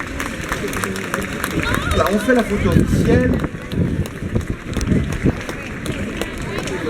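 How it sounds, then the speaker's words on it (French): An audience claps at a queen-crowning ceremony during the Mirabelle queen election in Metz, a dense patter of applause mixed with crowd murmur while a presenter speaks over it. "On peut applaudir très fort"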